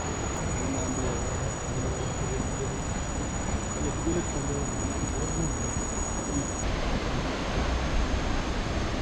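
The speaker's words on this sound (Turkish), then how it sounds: "Şurada bal arıları var." A dense, steady insect buzz fills the air near Sipi Falls in Uganda, where honey bees hover, blending with a constant hiss of rushing water and a thin high whine that drops out partway through.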